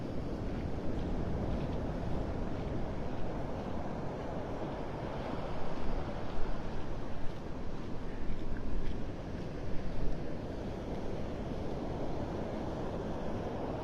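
Storm surf and gusting wind at high tide on Vanderbilt Beach in North Naples, Florida, during Tropical Storm Debby: a steady, heavy roar of breaking waves with wind buffeting the microphone, swelling louder in a few surges.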